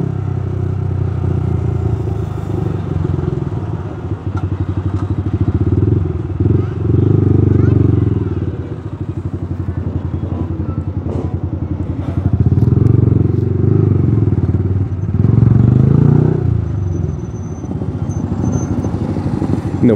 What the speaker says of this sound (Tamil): நல்ல டிராஃபிக்குங்க இங்கே.